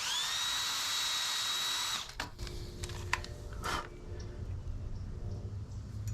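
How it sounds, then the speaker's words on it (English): A handheld drill reams out a hole in a wooden turkey call, giving a steady high whine that stops abruptly and is followed by a few scraping, clicking handling sounds. "let me go ahead and just drill that out a little"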